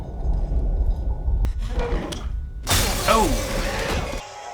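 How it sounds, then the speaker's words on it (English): Glass smashes loudly in a scene from the 2016 film 10 Cloverfield Lane, a sharp shattering crash after a few dull knocks, followed by tinkling debris. "She just whacked him in the glass."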